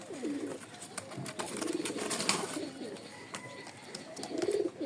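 A male Rajshahi highflyer pigeon coos in repeated throaty rolling bursts, close and clear, with a steady murmur of other birds behind it and no talk.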